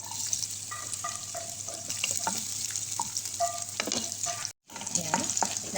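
Onion sizzles in olive oil in a pan, a steady close frying hiss with clinks and scraping from stirring, a brief silent gap near the end, with some voices faintly underneath.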